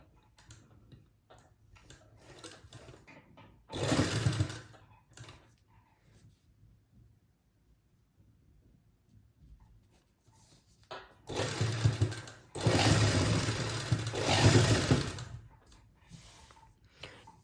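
A sewing machine stitches lace onto a garment neckline in two short bursts of fast whirring, the first brief and the second longer, separated by a quiet pause with faint handling sounds.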